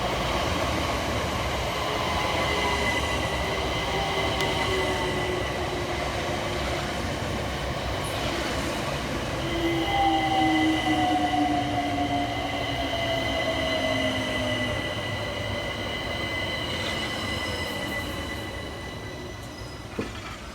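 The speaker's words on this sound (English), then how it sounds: "Arriving next into the station is 376031 and 376008 with the 1742 Southeastern service from London Charing Cross through to Hayes" Two coupled Southeastern Class 376 electric units, 376031 and 376008, pull into a station on the Hayes line, with a steady loud rolling rumble, rising and falling whines and brake squeal that lasts through the arrival and then eases off near the end.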